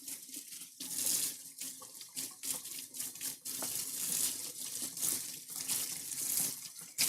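Running kitchen tap water splashing steadily over a whisk being rinsed in a sink, with clattering of the metal wires and shifting splash patterns, close up and continuous.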